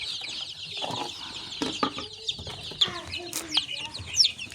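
Sick, ruffled chicks with diarrhoea, kept at home, chirp repeatedly in high-pitched peeps close by, with soft rustling and occasional louder cheeps.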